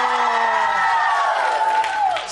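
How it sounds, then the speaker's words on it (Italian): A television studio audience at a magic show applauds and cheers, a loud swell of clapping mixed with whoops and raised voices that fades slightly at the end. "Bel applauso di più."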